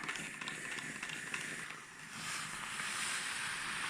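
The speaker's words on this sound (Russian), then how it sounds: "Подаю пар." A steam iron blowing steam during descaling, a continuous broadband hiss that dips briefly midway before surging again, close and steady with no voices.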